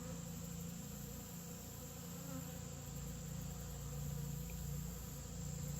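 A dense swarm of honeybees drones steadily around an open hive, a constant layered buzz that stays close and even throughout, with no voices over it.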